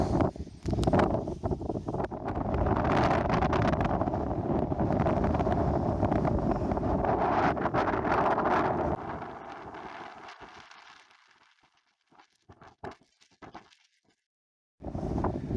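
Wind buffets the microphone outdoors on open, peaty ground near a crashed B-29 bomber wreck, a steady roar for about nine seconds that fades to near quiet with scattered bumps, then gusts back briefly at the close.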